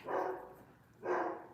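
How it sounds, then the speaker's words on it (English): Two muffled barks from a neighbor's dog come from somewhere in the background, spaced about a second apart, distant and moderately faint. "Now, as you can hear, the dog in the background is barking."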